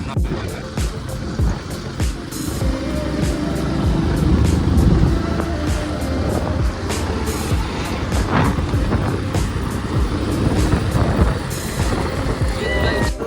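An auto-rickshaw rides along a rural road toward a farm, its steady engine rumble mixed with heavy wind buffeting throughout, with voices faintly present.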